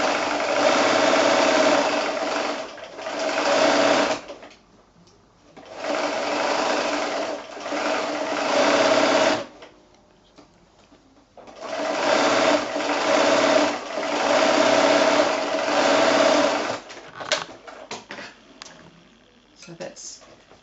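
Sewing machine stitching handles onto a fabric gift bag, running in three long close bursts separated by short pauses, then a few brief clicks of handling at the end.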